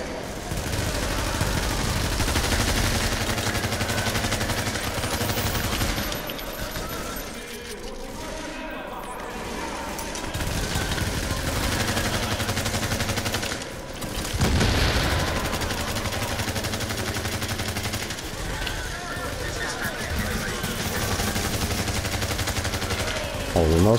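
Gunfire in a shootout in the video game Tom Clancy's The Division's Dark Zone, dense bursts and volleys filling nearly the whole stretch, with a few brief lulls, heard under someone talking.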